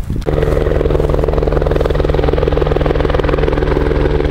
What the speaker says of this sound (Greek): Το ελικόπτερο έρχεται να μας πάρει